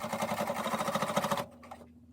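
A sewing machine stitches a casing along the edge of a fabric face mask in a fast, steady run of needle strokes for over a second, then stops, leaving a few light handling sounds.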